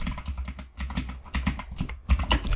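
Code is typed on a computer keyboard in a steady run of close, light clicking keystrokes, uneven in pace with brief pauses between words.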